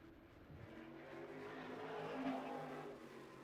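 A modified race car engine at a racetrack during a Smart Modified Tour event. The engine drones faintly from a distance, swelling slightly as the car runs a lap, with no talk over it.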